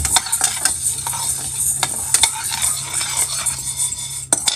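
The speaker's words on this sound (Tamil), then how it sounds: "இந்த அளவுக்கு உளுந்தை நல்லா வறுத்துக்கலாம்." Urad dal is dry roasted in a pan, with steady close scraping and rattling of the lentils as they are stirred, plus a few sharper clanks of the spoon.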